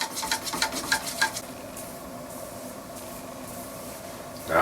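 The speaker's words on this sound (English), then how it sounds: "So just give it a stir. Get everything mixed up nicely." A wood stain mixture is stirred in a container, with a quick run of rhythmic scraping strokes for about a second and a half before it settles into a low, quiet background. A brief knock comes at the very end.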